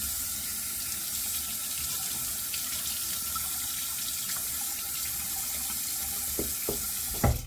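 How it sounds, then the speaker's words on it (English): Water runs steadily from a bathroom tap into a sink for rinsing the face after a wet shave, a close continuous hiss with a few splashes and clunks near the end. "gonna rinse face"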